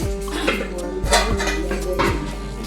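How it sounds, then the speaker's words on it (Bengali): Spoons and cutlery being washed by a woman: quick metallic clinks and knocks of utensils against each other, close, over a steady low background hum. "মা এখানে চামচ টামচগুলোকে ধুচ্ছে"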